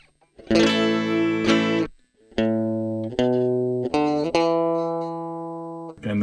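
A guitar runs through a rare Canadian phaser pedal with resonance and depth set halfway, picking a few clear ringing notes and chords that sustain and decay one after another, lightly colored but without sweeping modulation.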